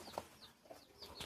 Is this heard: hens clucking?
yes